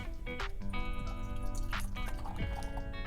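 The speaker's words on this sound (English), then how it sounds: "let's remember to insert our calibrated pour spout and then pour a standard pour of wine" A standard one-ounce pour of wine runs through a calibrated pour spout at a festival training demo, giving a soft, steady liquid trickle with a few faint drips, close and quiet with no talking.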